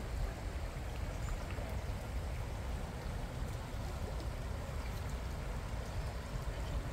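Steady, quiet rush of shallow water trickling and burbling over stones, continuous and fairly close, with no voices.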